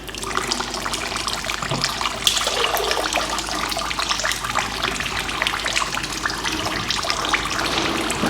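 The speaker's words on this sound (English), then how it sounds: "See, there's so much more oil still coming out of it." Oil draining from the gearbox of a Mercedes A-Class 200d, a steady liquid trickle and splatter running continuously and fairly close, with no talk over it.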